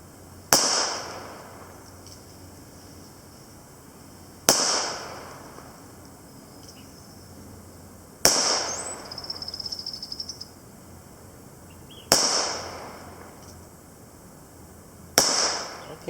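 Five loud, close revolver shots from a 5.5-inch Pietta Remington revolver firing smokeless cowboy loads, evenly spaced about four seconds apart, each a sharp crack with a short ringing tail.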